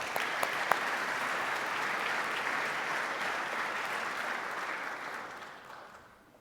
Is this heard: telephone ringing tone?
no